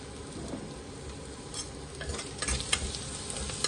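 Ginger garlic paste with turmeric and coriander powder fries in oil for an egg biryani, a steady close sizzle with stirring scrapes growing busier toward the end.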